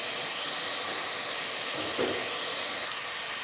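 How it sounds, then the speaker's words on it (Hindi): Masala paste sizzles steadily in hot oil while being roasted for a white chickpea (chikar chana) curry, a continuous close, even hiss with no talking. "अब मैं इसको इतना भुनाई करूंगी कि जो मसाला है वो अच्छा सा भुनाई हो जाए और ऑयल ऊपर आ जाए"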